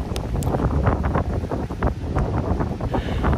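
Strong, cold wind buffets the microphone on a Gran Canaria dune beach, a steady loud roar with gusty rumbling throughout and faint surf underneath.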